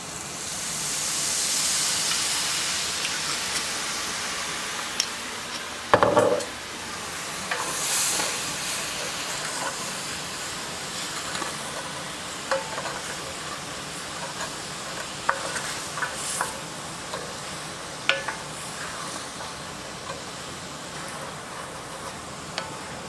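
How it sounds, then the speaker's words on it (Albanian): Shrimp sizzle in a frying pan and white wine is splashed in to deglaze the pan. A steady hiss and bubbling continues, broken by a brief louder burst and occasional clinks of a utensil stirring. "unë po i hedh pak verë të bardhë për të shkrirë dhe anët e tiganit që zun kur skuqim karkalecat"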